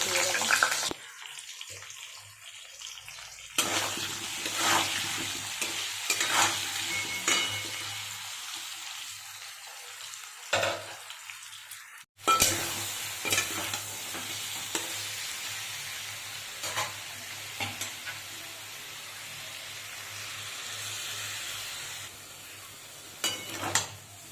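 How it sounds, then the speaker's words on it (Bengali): Bay leaf, dried red chili and cumin seeds hit hot oil in a home kadai, a loud crackling sizzle that breaks off briefly and resumes, with scattered clinks and rustling near the mic. "তেলটা গরম হয়ে গেছে আর তেজপাতা শুকনো লঙ্কাটা দিয়ে দিয়েছি আর এখন জিরে ফোড়নটা দিয়ে দিলাম"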